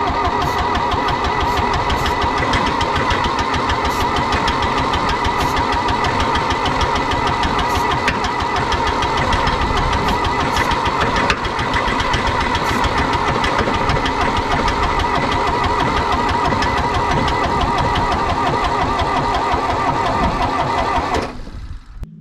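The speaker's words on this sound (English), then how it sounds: "I think all that sputtering is probably coming from cylinder 2." A John Deere 1010 track loader engine cranks and sputters on starting fluid with a misfiring cylinder, a loud continuous uneven chugging and knocking up close for about twenty seconds before cutting off, with no voices.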